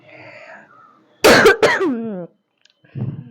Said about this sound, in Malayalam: ഭയങ്കര ചുമ